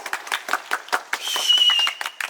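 A small group claps in quick, uneven bursts, fairly close, with a brief whistle-like tone rising through the middle of the clapping.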